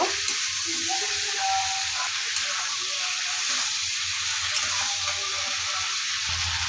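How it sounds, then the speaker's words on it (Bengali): Green bananas with turmeric and spices sauté in a pan, giving a steady, close sizzle with faint stirring scrapes throughout, with no talk. "এখানে আমি কলাগুলো দিয়ে দেবো দিয়ে ভালোভাবে কষিয়ে নেব"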